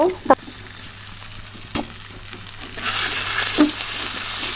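Ground spice paste and onions fry in oil after a tempering of whole cumin. A couple of loud knocks and stirring scrapes come first, then a bright, strong sizzle rises and continues.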